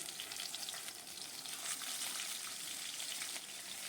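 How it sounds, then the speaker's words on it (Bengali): Rohu fish frying in mustard oil in a kadai, a faint but steady crackling sizzle with dense popping throughout, no voices. "মাছগুলো এবার ভেজে নিলাম"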